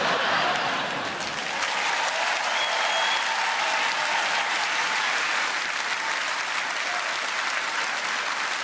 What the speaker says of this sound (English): It's a pretty tasteless round of applause